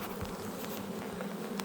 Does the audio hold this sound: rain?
no